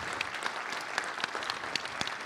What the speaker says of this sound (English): Can we have a big round of applause for all of our